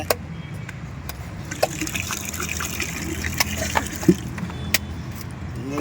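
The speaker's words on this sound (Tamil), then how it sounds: "தண்ணி பீச்சு அடிக்குது" Water gushing and spurting from a tap or outlet while a tender-coconut payasam is being prepared, a steady broadband rush with a few sharp clinks and knocks over it, fairly close, with no talk.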